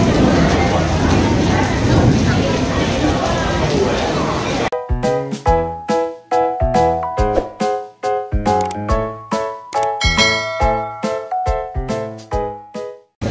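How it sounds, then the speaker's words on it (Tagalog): Steady rain pours for a few seconds at Taipei Zoo, Taiwan, then gives way to a run of loud, closely spaced clicks and knocks. "Maulan-ulan pa ang panahon."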